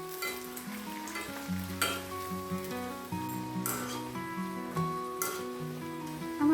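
Pieces of sweet khaja pastry dough fry in hot white oil in a kadai, giving a soft, continuous sizzle and bubbling. Melodic background music plays over it the whole time.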